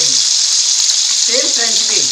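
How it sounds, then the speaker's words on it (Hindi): Potatoes and carrots fry in hot oil with a loud, dense, continuous sizzle throughout, and a few faint tonal sounds near the end. "ऑयल गरम हो गया है, इसमें हम डालेंगे आलू और गाजर और"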